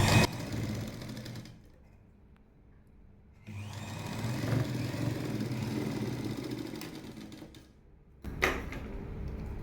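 A sewing machine sews a hook piece onto a cross-cut lining jacket in two runs separated by a quieter lull, followed by a brief final burst, all fairly soft and close.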